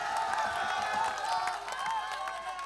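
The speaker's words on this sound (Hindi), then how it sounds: "एक बार जोरदार तालियां आप लोग बजा दीजिए इनके लिए।" A crowd at an all-India mushaira poetry gathering applauds with scattered claps, while voices carry on over the clapping.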